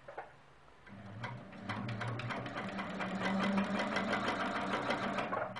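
A sewing machine quilting a curved line along a quilt's outer border runs in a steady, close, rapid needle rhythm, starting slowly and then holding an even pace.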